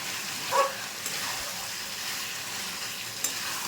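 Chicken curry masala sautéing in a pressure cooker, coloured with Kashmiri red chilli powder; a soft continuous sizzle with a couple of faint utensil clinks, no speech.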